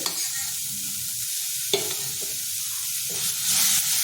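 Curry sizzles steadily in a pan while a spoon stirs it in repeated scraping strokes, with a single sharp clink partway through; close and continuous, no voices.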